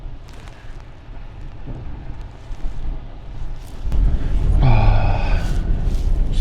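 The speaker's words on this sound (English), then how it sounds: "So windy." Strong wind buffets a camper van in Scotland during a storm, a rough low roar that builds and grows louder toward the end, with heavy gusting noise against the microphone.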